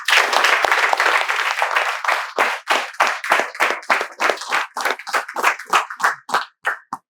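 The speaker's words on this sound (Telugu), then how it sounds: "మీరు ఈ వీడియో చివరి వరకు చూడాలని మేమందరము మీకు వెల్కమ్ చెప్తున్నాం చప్పట్లతో." A classroom group applauding in welcome, starting as dense continuous clapping and then breaking into distinct, rhythmic claps that gradually thin out, loud and close.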